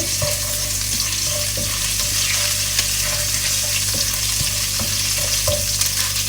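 A cinnamon stick fries lightly in oil with garlic paste, giving a steady close sizzle broken by faint scrapes and taps of a spoon in the pan.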